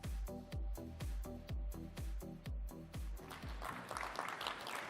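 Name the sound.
audience applause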